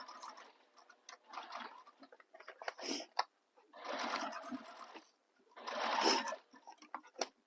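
A sewing machine stitches fabric for a Lady Dior-inspired bag in three close, steady bursts of rapid mechanical whirring, separated by short pauses.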